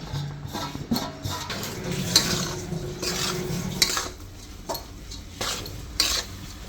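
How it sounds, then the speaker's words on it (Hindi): Besan being gently stirred and roasted in ghee in a kadhai: a spoon scrapes and clinks against the metal pan at intervals over a soft continuous sizzle, close up, with no speech. "अब हमको बेसन को हल्के हल्के हाथ से, ये जो मोगरी बनाई वो टूटे ना हमारे दाने, तो हल्के हल्के हाथ से इसको सेकना है घी के अंदर"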